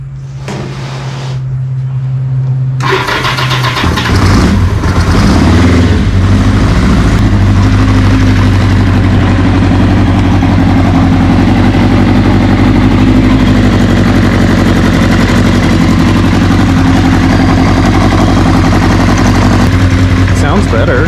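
A 1981 Kawasaki KZ750 LTD motorcycle engine starts and settles into a loud, steady idle as it warms up, a close, continuous low rumble after a brief cranking moment.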